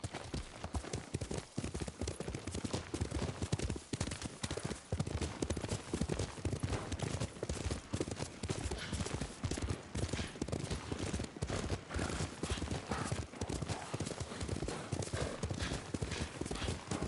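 Horse hooves clip-clopping steadily while riding in Ghost of Tsushima, a fast continuous galloping rhythm throughout, close and fairly loud over a faint game background.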